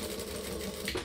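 A sewing machine backstitching seams on a tote bag, a short steady run of rapid mechanical stitching at moderate volume, heard alone without talk.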